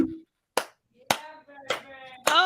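Sharp single hand claps mimicking a cymbal monkey toy, four or five spaced strikes in a loose rhythm, close and bright, with a brief vocal sound at the start and a voiced tone near the end.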